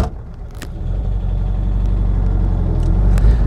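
A 1963 Porsche 356 C Cabriolet pulls away, its engine a loud low rumble that swells after a quiet start, with a couple of light clicks over it and no talk.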